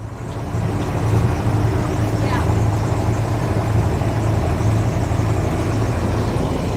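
A boat engine runs steadily at low RPM while motoring through reefs off Kavieng, Papua New Guinea, a constant low drone with faint background noise and no change in pitch.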